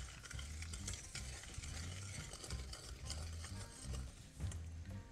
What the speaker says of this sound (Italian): Continuiamo a mescolare formando una crema.